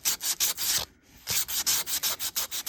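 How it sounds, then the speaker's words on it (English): Hand sanding of stainless steel trim with 1000-grit paper, close rhythmic back-and-forth rubbing strokes, loud and steady, with one short pause before the quicker strokes resume. "keep on rubbing until those are gone"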